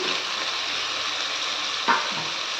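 Washed, dried prawns go into hot sesame oil for a prawn thokku, frying with a steady loud sizzle and one brief clank of stirring partway through.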